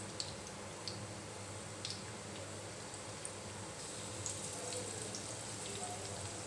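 Garlic, ginger and onion frying in a pan give a steady, dense sizzle like light rain, continuing evenly throughout with a few faint clicks on top.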